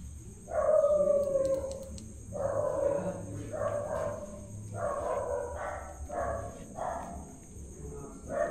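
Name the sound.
dog barking and howling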